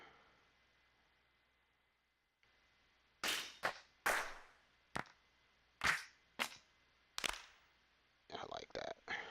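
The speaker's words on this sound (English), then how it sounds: "let's find a clap" Single clap drum samples triggered one at a time on a Maschine, six or so sharp, dry hits spaced out, then a quick rapid run of claps at the end, with a voice speaking softly between them.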